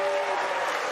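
A debate audience claps steadily in a dense, continuous wash of applause for a brief moment, heard at a moderate distance.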